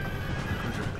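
A horse neighs in Napoleon: Total War during a battle with cavalry under attack. The whinny is steady and fairly loud over dense battlefield noise, with hoof clatter mixed in.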